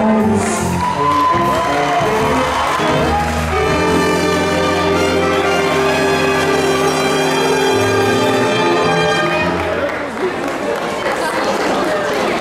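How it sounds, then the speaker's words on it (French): A graduation ceremony audience at a school cheers, whoops and applauds, the crowd noise loud and sustained for several seconds over music playing throughout. "Applaudissons pour les 511."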